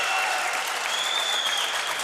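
Spectators at a youth Valencian pilota final in Alcàsser erupt in applause, with a sustained whistle cutting through the steady clapping and crowd noise.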